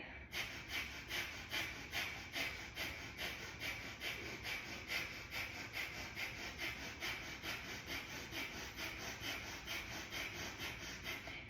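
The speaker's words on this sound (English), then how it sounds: "So big inhale in, release it out, fire breath begin." Rapid, rhythmic fire breath from a kundalini yoga kriya, quick forceful exhales pulsing steadily at about three per second, close and fairly quiet, with no talking.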